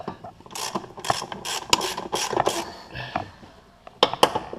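A ratchet wrench clicks in quick bursts while loosening a stubborn bolt under a Toyota AE86 during a drift build, close metallic pawl ticks with short pauses between strokes.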